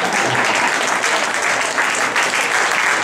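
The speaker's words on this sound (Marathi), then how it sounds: "जरा त्यांच्यासाठी जोरदार टाळ्या" Dense, continuous audience applause at a live Lavani stage show greeting a performer's entrance, steady and loud throughout with no break.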